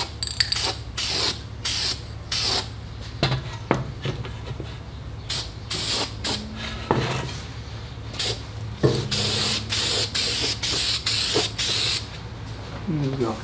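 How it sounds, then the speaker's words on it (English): Short hissing bursts of a spray can painting an early Chevrolet valve cover repeat in quick succession, close and sharp, with brief pauses between sprays. "I like to spray a little bit right underneath the edge all the way."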